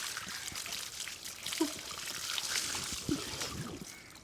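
Water trickling and splashing as it is poured over someone's head, a steady dribble with a couple of soft splashes, close by.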